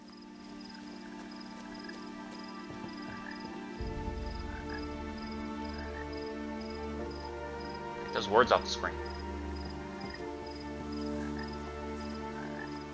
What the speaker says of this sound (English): I like those frogs.